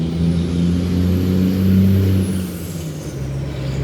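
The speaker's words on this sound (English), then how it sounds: "I love that right now there's tons of trucks for some reason." Trucks pass in nearby road traffic, a loud low engine rumble with droning tones that swells and then fades as a heavy vehicle goes by, and a faint high whine above.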